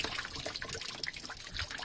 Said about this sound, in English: Get the water in there. Get the applicator nice and wet.